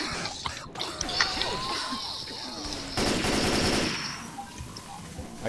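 Sniper rifle gunfire in Left 4 Dead 2 crackles through a busy game mix, with a dense rapid burst of shots midway and people talking throughout.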